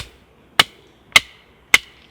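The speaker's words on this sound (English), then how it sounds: "It's a little bit thicker than what I'd want to batten with this, but it's working fine." Three crisp, evenly spaced knocks as a knife is batoned through dry firewood at a bushcraft camp, each a sharp woody crack with a brief ringing tail, close and clear in a quiet setting.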